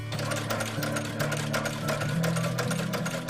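A sewing machine stitches a period military costume visor modelled on 1812 regulations, running steadily and close up with a rapid mechanical chatter and no voices.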